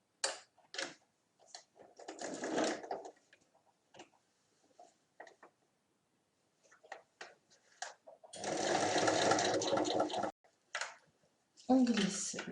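Sewing machine stitching fabric for an accordion-style pouch in short bursts and one longer run, close and clear, with someone talking quietly in between.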